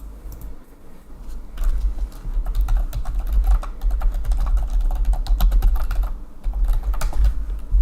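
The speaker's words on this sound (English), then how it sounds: "I hope the typing isn't too loud." Steady rapid keyboard typing with thuddy keystrokes during a LOTRO gameplay stream, close and continuous over a low background hum, with no talking.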